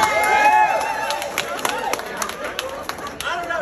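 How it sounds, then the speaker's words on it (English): A convention crowd at JordanCon chatters and calls out behind a person speaking, with scattered claps and cheers over a busy hall babble, the talk close and loud above the crowd. "I love this crowd behind me"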